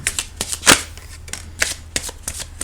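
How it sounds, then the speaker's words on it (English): Tarot cards being shuffled by hand, a run of crisp papery riffles and snaps at an uneven rhythm, close and alone with no talk. "let's just pull another few more cards here"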